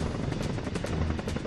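Apache and Mi-17 military helicopters fly near a high-altitude landing ground close to the Chinese border, their rotors giving a loud, continuous, rapidly pulsing roar.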